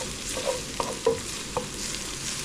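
Onions and curry leaves frying in a pan of beef curry, a steady sizzle and crackle with a few sharp stirring clinks rising out of it.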